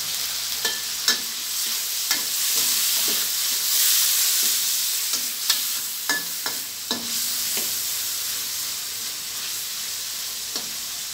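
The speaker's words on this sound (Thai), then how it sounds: "ผัดหมูให้สุกเลยนะบนะ" Pork belly stir-fried in a pan with yellow bean sauce, a strong hissing sizzle throughout, punctuated by frequent clacks and scrapes of a spatula stirring, with no voices.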